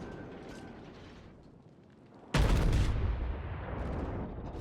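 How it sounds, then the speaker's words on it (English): A naval gun salvo in the World of Warships game lands as one sudden heavy boom partway through, followed by a sustained loud rumbling roar over the game's background noise. "I think this salvo might finish off the Amagi"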